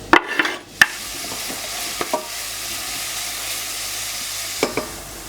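Soft sizzling of onion frying in a pan, with a few scrapes and clinks of stirring, fairly close and steady.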